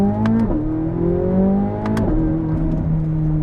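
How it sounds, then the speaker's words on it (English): A 2023 Chevrolet Corvette Z06 of the C8 generation, driven on the road, gives a steady close engine drone that rises through the gears, with two quick shift blips breaking the pull. "My first time getting to drive the Corvette Z06, the C8 generation 2023 Z06, and we're starting on the road today"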